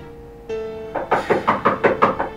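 Several sharp knocks on a door in a quick, steady series, close and loud, following a low sustained tone.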